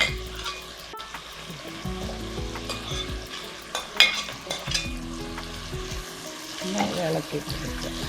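Vegetables frying in a pan are stirred continuously with a utensil while a steady close sizzle runs underneath, with scraping strokes and occasional clinks against the pan.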